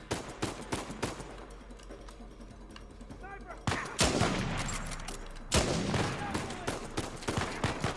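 Sniper rifle fire and other gunshots in Uncharted 4, with repeated sharp cracks, heavier loud bursts midway and rapid follow-up shots over game noise.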